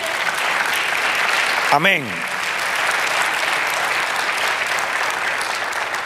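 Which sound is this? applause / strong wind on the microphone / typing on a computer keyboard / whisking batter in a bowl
applause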